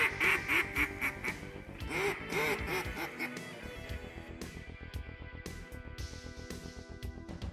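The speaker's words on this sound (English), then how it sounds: "We could hear the mallards and the gadwall and some pintail working." Mallard, gadwall and pintail ducks quacking during a duck hunt at first light, a chorus of repeated nasal quacks near and far, loud bursts at the start then a busy continuous clamor with no talk.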